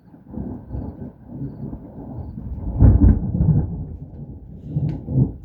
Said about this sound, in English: I get jump scared by thunder